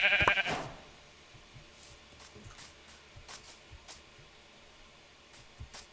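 A Minecraft sheep gives one loud, close bleat at the start, followed by quieter game ambience with faint soft footstep-like taps.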